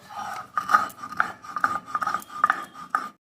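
Salt ground into powder at home, about eight close, rhythmic rasping strokes with short pauses between them and no voices.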